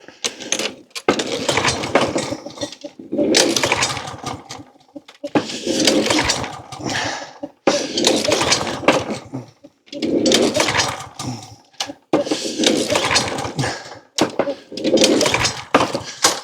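A lawn mower with a Briggs & Stratton engine is repeatedly pulled to start, giving loud close bursts of rough engine sputtering that catch and die in cycles of a few seconds each, separated by brief pauses.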